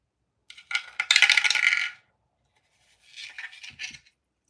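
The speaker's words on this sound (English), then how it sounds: "I got my dice tower where I can drop this dice" Dice dropped into a dice tower clatter down inside it in a bright, rattling burst lasting over a second, followed after a pause by a softer, shorter second tumble.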